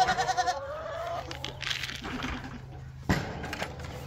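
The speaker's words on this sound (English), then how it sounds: "It's time to get the goats out." Goats bleat several times at close range on a small farm with chickens around, the calls rising and falling in short bursts, with a louder sharp sound near the end.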